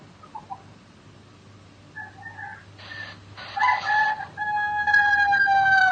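A rooster crows outdoors, a drawn-out call rising in the last seconds after some quieter clucks and faint background noise, moderately distant and heard alone.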